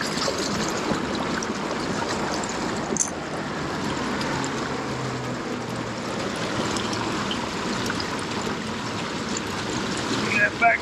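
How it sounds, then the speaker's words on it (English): River water flows in a continuous steady rush, close and fairly loud, with a brief knock partway through and a few sharper sounds near the end. "that's coming up from that river, this water flowing"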